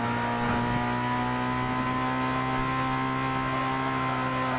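Game car engine in Gran Turismo 6 labouring up a hill, a steady droning hum with fixed tonal pitch, continuous and fairly loud, no voices.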